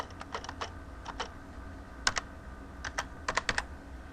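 A password is typed on a computer keyboard in uneven bursts of quiet, close key clicks, with a few clustered taps and one sharper keystroke partway through.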